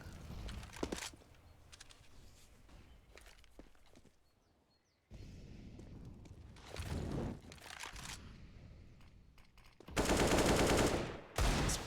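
Rifle spray fire in Counter-Strike on the Inferno map, with several bursts of rapid shots spread across the clip, the loudest and densest burst coming near the end over a background of footsteps and movement.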